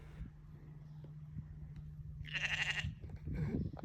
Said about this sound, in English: all the sheep kind of seemed to get mad at me